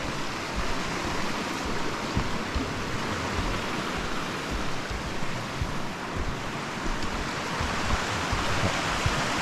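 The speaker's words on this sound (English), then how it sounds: "So this water on this side is still flowing." A mountain creek fed by karst springs in Kananaskis keeps flowing beside an icy trail, giving a dense, even rushing wash of water close by, with no voices.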